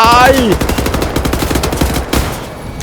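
Rapid gunfire from dual-wielded guns in the video game Wolfenstein: The New Order, loud and close, with fast overlapping shots hammering out in a continuous burst that trails off near the end.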